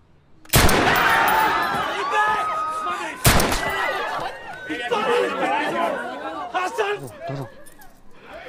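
Gunfire in a film scene with rebels shooting, two loud sharp blasts about three seconds apart amid agitated crowd chatter and shouting voices that continue throughout.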